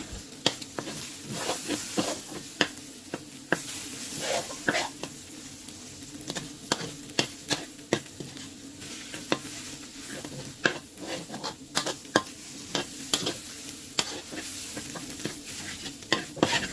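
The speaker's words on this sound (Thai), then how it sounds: "คือเราจะ ผัดไข่คั่วไข่ให้แห้งดีก่อนค่ะ" Eggs stir-fried in a pan until dry, cooked first for a luffa gourd and egg dish. A steady sizzle runs throughout, broken by frequent sharp scrapes and taps of the spatula against the pan, with no talking.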